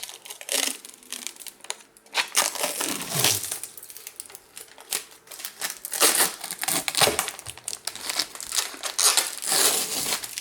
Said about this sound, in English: Ooh, let me peel this plastic.